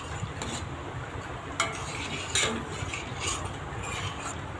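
A spoon stirring rice kheer in a pot on the stove, soft scraping and occasional light clinks against the metal over a low steady cooking hiss, quiet and close with no talking.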